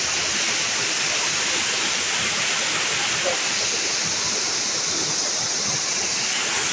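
Rushing water at Kilangin Falls roars as a steady, loud, broadband wash throughout, with no break in the flow.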